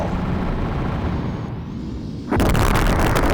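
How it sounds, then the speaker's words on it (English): Strike cannon exploding in the space combat game Colony Wars: a steady roaring rumble gives way to a sudden, louder broadband blast near the end, sustained and loud. "slowing down next to a strike cannon even when it's about to explode is dangerous"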